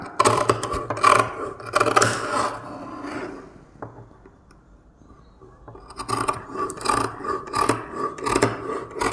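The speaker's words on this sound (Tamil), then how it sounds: "ரெண்டு பட்டியையும் ஒன்றா வச்சு கட் பண்ணுறேன்" Scissors cutting through two stacked strips of blouse lining fabric: close, rasping crunchy snips in a dense run, a short quiet gap, then more snipping, with no voices.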